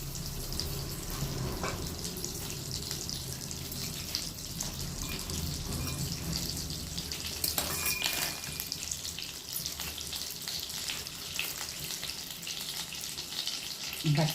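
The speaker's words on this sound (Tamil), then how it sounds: "பட்டரு எண்ணெய் காயட்டும்." Butter and oil heat in a pan, giving a continuous bright sizzle and crackle that holds steady throughout, with occasional small clinks.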